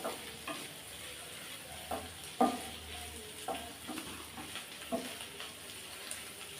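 A gentle, constant sizzle from cauliflower frying in a pan over medium flame, broken by scattered clinks and scrapes as a spoon stirs it at a moderate pace.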